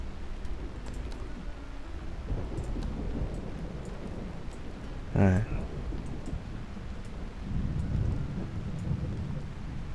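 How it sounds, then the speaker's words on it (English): Steady rain with a low rumble of thunder in the Tavern Master tavern management game, a soft continuous wash with a brief crackle midway, and a person speaking briefly over it. "Oh, and it's gonna be a rainy day too."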